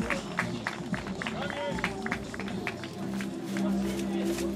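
Crowd at a horseback tournament at the Grunwald 2011 event claps and cheers for the winning rider, a steady spread of applause and crowd noise mixed with an announcer's voice throughout.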